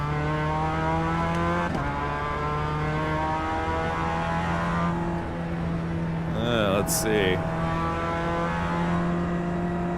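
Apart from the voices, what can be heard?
race car engine in racing video game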